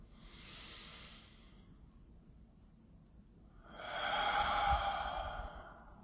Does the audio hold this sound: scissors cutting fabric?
no